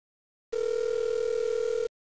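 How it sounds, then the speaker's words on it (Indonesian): A single sustained telephone ringback tone plays while calling someone, a steady electronic hum lasting just over a second that starts and stops cleanly against silence. "Gua coba telpon sekali lagi deh."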